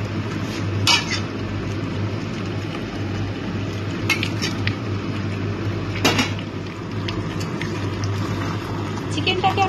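Potatoes going into a pan of yogurt chicken with capsicum while it cooks: a steady sizzle broken by a few scattered clinks and scrapes of utensils against the pan, with a person talking over it.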